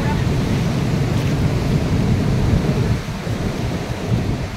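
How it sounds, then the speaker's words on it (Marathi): Ocean waves surge at the shore in a loud, broad, rumbling wash that rises and eases slightly partway through, with wind buffeting the microphone. "तर तिकडे लाटा बघा कशा उसळत."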